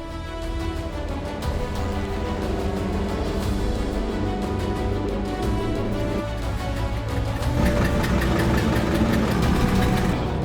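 A 100-year-old Bentley race car engine with a disintegrated exhaust runs in a 24-hour race, a loud, raw, continuous blatting drone with rapid pulsing firing beats, close and unbroken.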